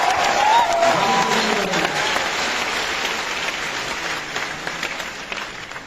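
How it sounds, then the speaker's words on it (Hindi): A crowd claps loudly and steadily, a dense wash of applause that gradually eases off, with a voice briefly audible at the start. "जोरदार तालियां बताते हैं।"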